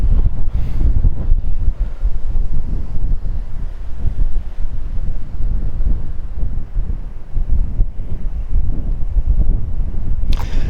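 Heavy, roaring wind buffets the microphone while a DJI Mini drone flies directly into strong wind, a loud, steady low rumble with gusty fluctuations throughout.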